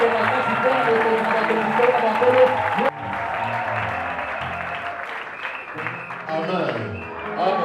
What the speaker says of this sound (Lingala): J'aimerais que nous acclamons pour le roi des rois Seigneur